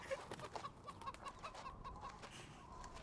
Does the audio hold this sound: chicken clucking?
yes